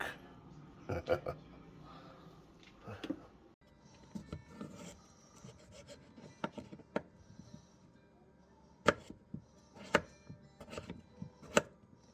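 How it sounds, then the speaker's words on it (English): A kitchen knife chops tomato and garlic on a board, giving irregular sharp knocks that come in loose clusters, some hard and close, with a person talking in between and over the cutting. "slice the tomato. I'm also gonna do some garlic. Let me get to my knives."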